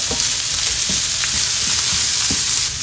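Tomato and chopped ginger frying for Pampanga-style sisig give a steady, loud sizzle with a few faint utensil taps scattered through it, and no voices.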